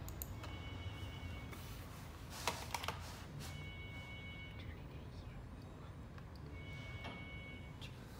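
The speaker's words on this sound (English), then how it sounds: "We use the keyboard to move the red dot." Sparse keystrokes on a computer keyboard while a contour cut is set up in CorelDraw for a cutting plotter, a few scattered clicks and short bursts over a quiet room hum with speech nearby.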